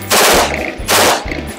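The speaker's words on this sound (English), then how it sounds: "Yes, I want to shoot an M16." An M16 rifle fires two loud, close bursts of rapid automatic shots at a shooting range, each burst sharp and percussive and followed by a short ringing decay.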